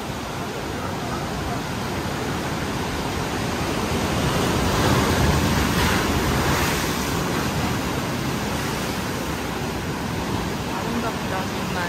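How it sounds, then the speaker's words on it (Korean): Strong sea waves crash and break on the rocky shore at Yeonggeumjeong in Sokcho, a loud, continuous roar of surf with swelling surges and wind, heard alone without voices. "여기 파도 진짜 세서 바닷물이 여기까지 튀어"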